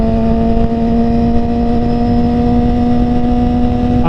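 Motorcycle engine running at a steady high drone with a strong tonal hum, loud and close, holding an even pitch without distinct rev swells.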